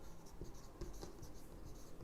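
Pen scratching steadily across paper while a Class 12 maths solution is written out by hand, a continuous close scribble with small strokes and pauses and no talk over it.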